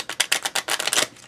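A main card deck, unsleeved, being riffle-shuffled on a hobby table while prepping Commands & Colors Samurai Battles: a close, rapid run of crisp card flutters in quick bursts, alone with no talk.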